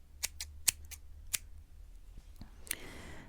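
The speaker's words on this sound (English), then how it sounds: "the scissoring, snipping sounds I have for you" Sharp, crisp thinning-shear snips cut through paper, several quick clicks in an uneven rhythm, close and fairly quiet, followed by a brief rustle.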